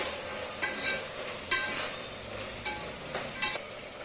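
Spices and turmeric being stirred into a dish frying in a pan, with a steady sizzle underneath and several distinct scraping stirs spaced across the span, fairly close and with no talking.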